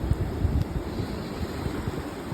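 Ocean waves wash and wind buffets the microphone, a steady soft rushing surf with low gusty rumbles, fairly faint and with no voices.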